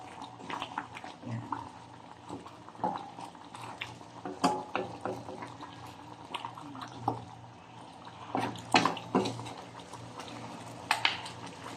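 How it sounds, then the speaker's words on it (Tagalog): Kaldereta with ribs bubbles and simmers in a pot, with irregular pops and drips over a low steady background. "Habang kumukulo."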